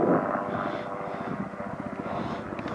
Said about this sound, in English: So many helicopters,